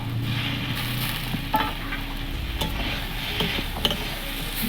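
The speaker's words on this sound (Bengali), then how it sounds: "তরকারিটা এইভাবে সর্ষে দিয়ে কষিয়ে নিয়েছি।" Pumpkin curry with mustard paste, salt and a little sugar being stir-fried in a pan, a close steady sizzle punctuated by spatula scrapes and taps.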